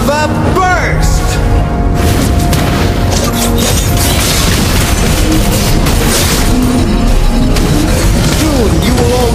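Valir's Lava Burst fire skill in Mobile Legends erupts amid a loud, dense barrage of booming blasts and crashing impacts, layered over game music and a character voice speaking throughout.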